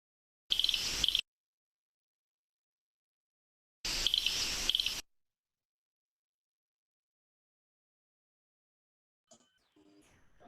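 Ultrasonic bush cricket call slowed to one-tenth speed, two separate harsh buzzy bursts, the first under a second and the second just over one, with silence between and faint noises after.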